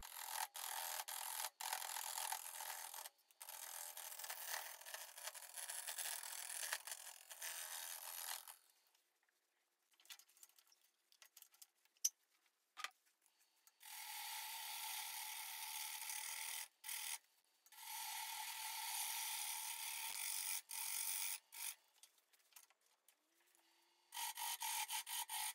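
A round nose scraper cutting spalted maple on a lathe turning at about 420 rpm, heard as long hissing, rasping passes close by, separated by short quiet pauses.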